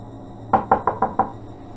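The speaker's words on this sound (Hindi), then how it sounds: "इतने में ही किसी ने मेरा दरवाज़ा खटखटाया।" Five quick, evenly spaced knocks on a door, close and sharp against a quiet background.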